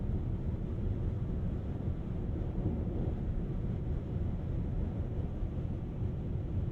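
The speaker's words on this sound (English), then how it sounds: "On the highway, at the higher speeds, the wind noise is picked up a little bit." Steady broadband wind roar inside a 2022 BMW iX xDrive50 electric SUV cruising at highway speed, a constant low rumble and hiss with no voices.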